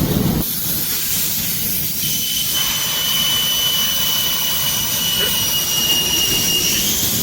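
Air rushes out of a motorcycle tire through the valve stem once the valve core is unscrewed, a loud continuous hiss that holds steady for several seconds with a faint whistling edge.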